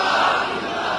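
A large crowd at a political rally in Maharashtra roars a slogan in unison. The shout is brief, loud and close, a dense wall of voices.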